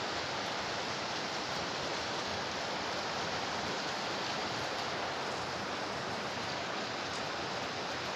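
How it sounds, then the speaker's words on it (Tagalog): A dense, constant roar of strong wind during heavy rain in Manila buffeting the microphone, loud and unbroken throughout. "Lakas ng hangin."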